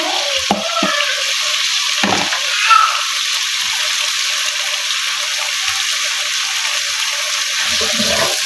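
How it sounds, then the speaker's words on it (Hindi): Potatoes frying on a medium flame for palak aloo sabzi, a steady close sizzle with a few brief stirring knocks, no talk. "और आलू को मैं मीडियम फ्लेम पर फ्राई कर लूँगी।"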